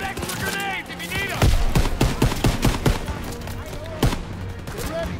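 Rapid automatic gunfire and scattered shots from the Call of Duty video game, loud dense bursts in uneven rhythm mixed with shouted voices.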